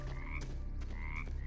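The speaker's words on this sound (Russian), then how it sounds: "Жабы." Toads croak in the fantasy action game Children of Morta, two drawn-out raspy croaks with a short gap between them over a steady low ambient hum.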